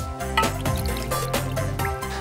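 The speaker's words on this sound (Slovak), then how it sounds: "podlejeme buď vývarom alebo vodou" Broth or water poured over pork belly with fresh rosemary sprigs in a roasting dish, a steady close liquid splashing and trickling for about two seconds over a tonal background.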